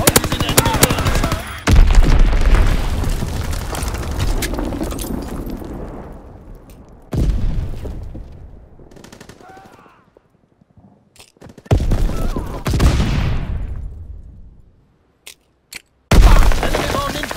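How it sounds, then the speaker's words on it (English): Explosions and gunfire from a Call of Duty WWII multiplayer hardpoint match, with loud blasts and rattling fire in bursts, separated by quieter gaps, with game voice lines and other talk mixed in. "Dropping Fritz X-Bomb!"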